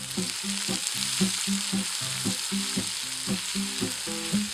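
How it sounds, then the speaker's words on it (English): Steady sizzling of onions frying in a large cauldron over an open fire, with rhythmic scraping and clinking of a spoon stirring through them. "we stir the sizzling onions around"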